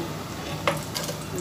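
Bay leaf, cinnamon, cardamom and cloves sizzle in hot oil, a steady soft crackle with one brief clink partway through, close and alone.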